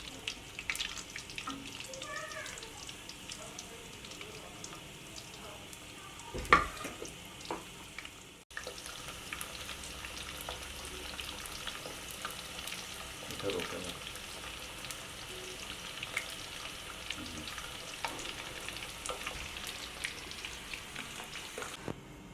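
Potato French fries frying in hot oil in a kadai over a high flame, giving a steady close bubbling sizzle with a brief clatter partway through.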